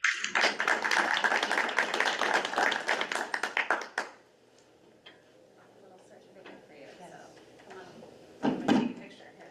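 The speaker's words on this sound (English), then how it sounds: "So another round of applause for our commended scholars." A room full of people claps for commended scholars at a school board meeting, the dense applause lasting about four seconds before fading into quiet murmuring and shuffling, with a brief louder burst near the end.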